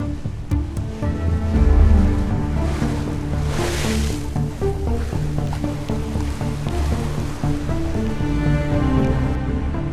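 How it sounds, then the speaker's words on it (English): Rough ocean waves on the Tasman Sea surge and wash continuously around a moving sailboat, a broad steady roar with a swelling crash near the start. "But the waves are getting higher and higher."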